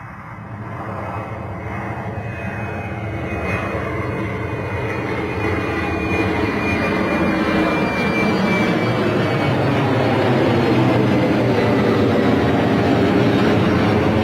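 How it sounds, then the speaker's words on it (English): A KLM jet airliner takes off at Bristol Airport, its engine roar building steadily from a rumble to a loud, sustained rush, with a faint whine fading over time. "Another takeoff occurring right now. Looks like KLM."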